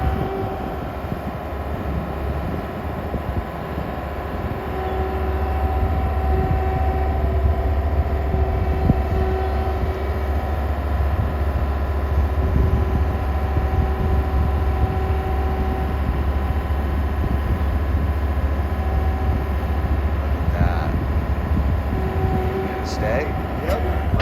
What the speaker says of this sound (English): Just gonna stack them 3 high using the skid loader.